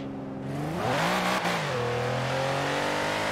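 A Mercedes SL65 AMG V12 in Forza Horizon 4 revs hard and accelerates, the engine note climbing and then holding a loud, steady, close drone with no talking.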